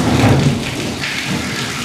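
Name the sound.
thunder from lightning in video game Dead Space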